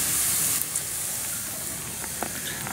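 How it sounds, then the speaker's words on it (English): Bacon frying in a Dutch oven outdoors on a foggy morning, a steady close sizzle and hiss that runs the whole time with no talk over it. "keep frying our bacon."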